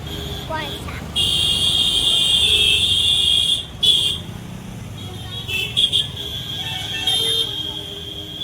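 A vehicle's ambulance-like siren wails steadily in a traffic jam during a VIP convoy, loud and sustained with brief breaks, over road noise and a busy street.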